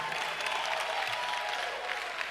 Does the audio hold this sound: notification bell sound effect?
no